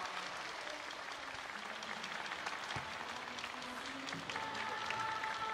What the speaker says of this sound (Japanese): 改めて本日ホームゲームを勝利で飾りました日本生命レッドエルフに大きな拍手をお願いいたします。